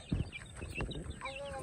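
Backyard chickens clucking softly while feeding, short scattered clucks and murmurs close by, mixed with faint human voices and rustling.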